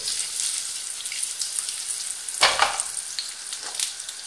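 Chorizo fries in olive oil with a dense, loud, continuous sizzle and crackle close by, with a few brief bursts of louder spattering.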